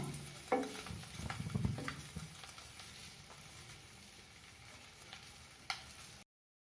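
Eggs frying in a pan for a spicy egg pepper gravy give a steady soft sizzle, with brief scraping stir sounds early on, close and fairly quiet throughout.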